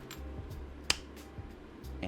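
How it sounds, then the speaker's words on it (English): A single sharp finger snap during a coin magic trick, with quiet low background hum before and after. "And I snap my fingers and it all goes back."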